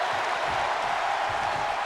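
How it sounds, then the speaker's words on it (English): A steady wash of crowd noise at a wrestling show, a constant roar of cheering and clapping from a large audience, with no break and no distinct voices. "the crowd is loving this match"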